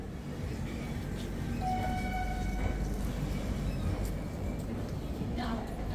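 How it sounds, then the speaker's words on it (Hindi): The Janta Express passenger train from Patna to Mumbai runs at night with a steady loud rumble and rattle of the carriages, while faint tones and a distant horn sound over it. "12 बजे के बाद ट्रेन स्टार्ट हो गई है"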